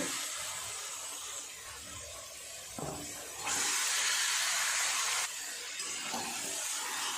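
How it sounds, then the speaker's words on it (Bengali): Marinated chicken (desi rooster meat) going into a hot pan over cumin and coriander powder gives a steady hiss, with a louder, brighter sizzle burst midway, then settling back to a continuous frying hiss with no talking. "এর উপর দিয়ে দেব ম্যারিনেট করে রাখা মাংস।"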